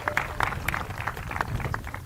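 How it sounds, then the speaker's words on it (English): Spectators at a UW-Superior college softball game applauding a senior player: scattered claps and light cheering at moderate distance, uneven and sparse rather than a full roar. "A round of applause for Bailey O'Donnell."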